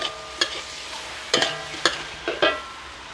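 Mixed vegetables and fresh shrimp are stir-fried in a hot pan, with several sharp scraping stir strokes over a soft, continuous sizzle, fairly close and with no talking.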